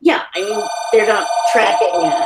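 A telephone rings with a steady electronic tone that runs under close, clear conversation throughout.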